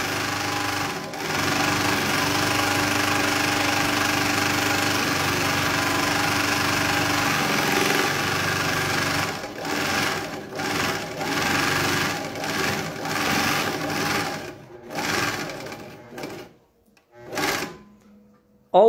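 Domestic straight-stitch sewing machine sewing fabric, a loud sustained motor whir for several seconds, then shorter stop-start bursts with clicks and handling noises.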